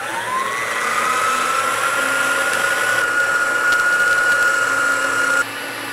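A cordless drill drives a homemade grain mill on an adjustable power supply, crushing malted grain for all-grain home brewing into a bucket below: a steady, loud motorized whine and grinding rasp that holds evenly before cutting off near the end.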